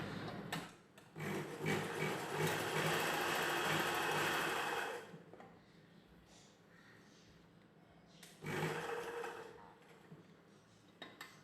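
A sewing machine stitching chudidhar pant cloth, a loud steady whirring run of several seconds that stops, then a second shorter burst after a quiet pause.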